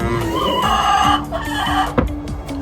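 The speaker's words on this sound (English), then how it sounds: "So yeah, the birds, the chickens, they lay." Backyard home flock of laying hens clucking and calling in a coop, several overlapping birds close by with a steady chorus of clucks and a sharper squawk near the end.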